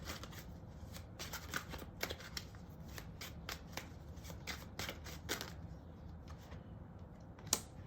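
A tarot deck is shuffled steadily for several seconds, with a rapid run of papery riffles and soft card slaps, quiet and close, with no talking.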